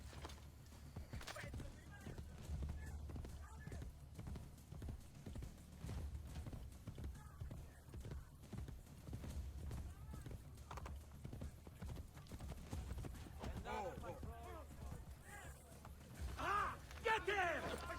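Horse hooves clip-clop steadily in Assassin's Creed: Brotherhood, a continuous trotting rhythm running the whole time beneath voices and game sound, with a brief louder burst near the end.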